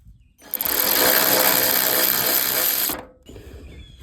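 A power tool whirs steadily and loudly for about two and a half seconds while backing out bolts on a 2012 VW Passat, then stops abruptly, leaving quieter rustling behind.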